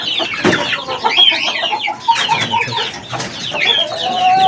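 Aseel chickens cluck and murmur close by while eating spinach in their shed. The clucks come in a busy, overlapping chorus with occasional higher calls, and no one speaks.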